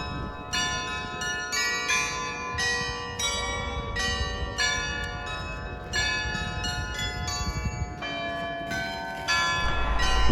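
Bells of the carillon on Esslingen's market square ring out a melody, clear sustained tones struck in sequence, loud and resonant with overlapping decay.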